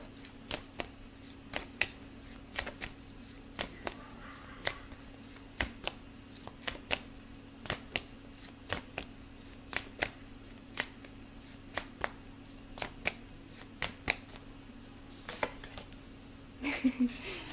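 A deck of tarot cards is shuffled quietly nearby, a long series of evenly spaced crisp riffles and snaps with a short rustle near the end.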